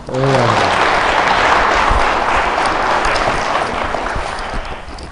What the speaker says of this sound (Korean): 혹시 맞으면 박수 한번 치보세요